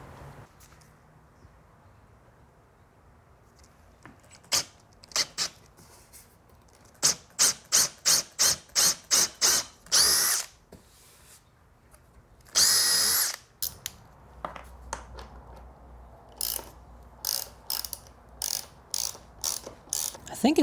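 A bolt is turned with a ratcheting tool to cut threads into the wooden bottom bracket shell of a mini town bicycle. Close, loud bursts of rapid clicking come in rhythmic runs with short pauses, and there is one longer grinding stretch, without talk.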